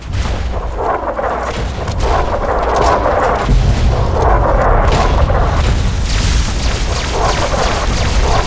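A heavy artillery explosion in the video game Fallout 3, a loud sustained rumbling boom with rolling low blasts that keeps building for several seconds, no speech over it.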